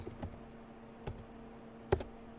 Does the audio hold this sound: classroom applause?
no